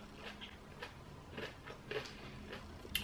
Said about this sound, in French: C'est hyper croustillant et tout.